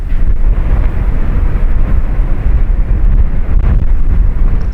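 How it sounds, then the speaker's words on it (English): Strong wind roars steadily across the microphone in a dense, low buffeting rush that barely lets up, with no voices, in an outdoor spot where Lamborghinis including a black Urus S are on display. "The wind is getting worse and worse."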